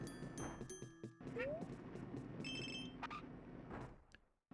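Buzzing platforms in Yoshi's Crafted World give off short, trilling vibration tones like a phone on silent, several quick buzzes over game music and background sounds, fairly faint.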